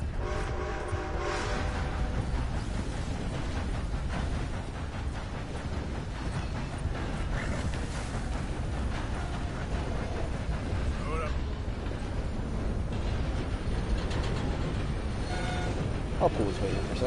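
Steam train running in the Red Dead video game: a steady rumbling, clattering roll that continues throughout, with voices talking over it.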